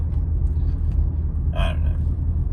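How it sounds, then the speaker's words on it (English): Steady low exhaust rumble from a Subaru with a stock exhaust, probably STI-style stock mufflers, heard from inside the car while driving, a continuous deep drone with no talking. "has that Subi rumble. It's almost like you're in a WRX"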